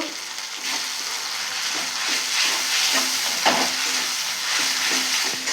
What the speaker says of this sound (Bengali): বাদাম বাটাটা মশলার সঙ্গে ভালো করে কষে নেব